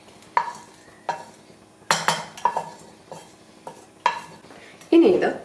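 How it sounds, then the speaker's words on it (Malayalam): A spoon mixes fried ingredients into paniyaram batter in a bowl. It gives repeated sharp clinks and scrapes at an uneven rhythm, close and clear, with no one talking. "ഇനി ഇത് നല്ലതുപോലെ ഒന്ന് മിക്സ് ചെയ്യുക."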